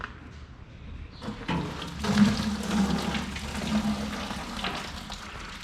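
Antifreeze drains out of an old Ford 850 Powermaster tractor, a soft, close splashing and gurgling of liquid that swells after a faint start and keeps running steadily.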